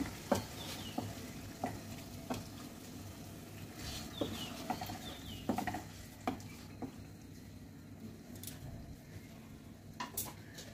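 Spices are stirred into chicken chaap in a pan over low heat, a faint sizzle under soft, irregular scraping and tapping of a spoon against the pan.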